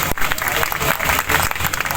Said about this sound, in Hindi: एक बार अमित जी के लिए जोरदार तालियां।